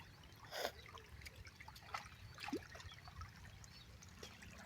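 Water trickles quietly along a farm field during irrigation, a faint, continuous low flow broken by a few small splashes and drips.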